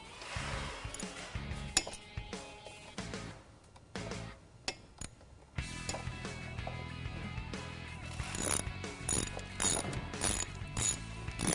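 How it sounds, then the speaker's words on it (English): A ratchet clicking in quick runs as it tightens motorcycle brake caliper bolts during a Galfer brake pad install, fairly close and clear, with mechanical clinks and short pauses between strokes. "you're going to want to tighten up your caliper bolts"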